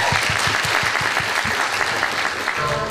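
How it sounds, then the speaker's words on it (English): Dense audience applause after a K-pop performance at a San Francisco regional contest, loud and continuous for nearly three seconds with some crowd noise mixed in. "Let's all give her another round of applause."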